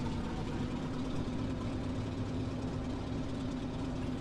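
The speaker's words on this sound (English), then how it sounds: "need to warm up the engine" An F4U Corsair's radial piston engine idles to warm up in DCS, a dense, continuous low rumbling drone holding steady and loud throughout with no talk.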